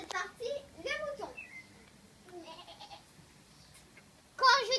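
Children imitate sheep bleating in a classroom farm-animal game, with short wavering bleats at the start and a louder burst at the end, separated by quieter voices.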